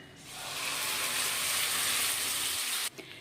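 Whole cumin seeds and a prepared spice paste sizzle in hot oil in a pan for an aloo kochu (potato and taro) curry, a loud, steady broadband hiss that holds for nearly three seconds and then cuts off abruptly.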